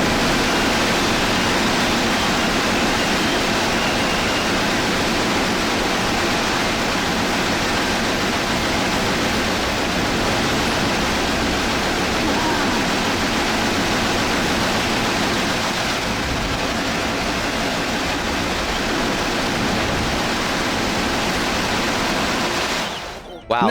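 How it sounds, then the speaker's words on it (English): A harsh, continuous noise-like roar from a DK64 glitch triggered by playing an instrument while entering water, sustained loudly and evenly for over twenty seconds before cutting off abruptly. "if you play your instrument right as you enter water, then this lovely noise plays"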